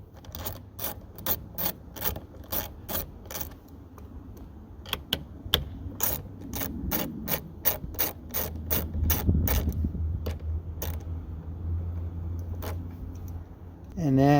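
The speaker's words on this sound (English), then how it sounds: "This is a 10 mil socket. It's not even a deep well socket. I'm just going to loosen these" A hand ratchet with a shallow 10 mm socket loosens the side-mirror bolts on a Hyundai Sonata door, giving bursts of rapid close metallic clicks, then a pause and a low mechanical rumble near the end.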